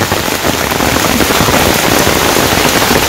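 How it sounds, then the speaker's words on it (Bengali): Heavy rain pours down on a Bangladeshi village in the rainy season. The loud, dense, unbroken hiss and patter of the downpour fills the whole clip with no voices. "বৃষ্টি খুব জোরে নামলো এখন"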